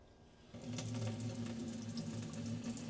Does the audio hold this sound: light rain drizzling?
no